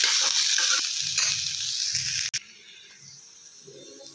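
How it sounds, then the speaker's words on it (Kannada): Cluster beans fry in a pan for a North Karnataka style palya, giving a steady close sizzle with soft stirring scrapes that drops to a quieter hiss halfway through. "ಒಂದು 5 ನಿಮಿಷ ಚೆನ್ನಾಗಿ ಹುರ್ಕೊಳ್ಳಿ"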